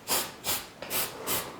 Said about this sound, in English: I'm kind of like just rubbing it